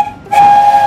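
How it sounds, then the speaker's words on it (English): A steam locomotive whistle, Spencer from Thomas & Friends, sounds a single loud, steady, clear tone with a breathy hiss that starts sharply and holds alone. "It has a very unusually shaped funnel and a whistle which sounds like this."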